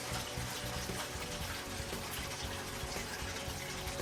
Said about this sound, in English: So the water's coming out.